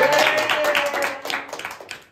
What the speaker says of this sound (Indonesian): Tepuk tangan dulu, Bang.